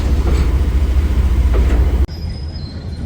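A train hauled by two locomotives rumbles past close by at Dhuri Junction railway station in Punjab, with heavy low engine roar and wheel noise, then cuts off abruptly, leaving a faint high squeal.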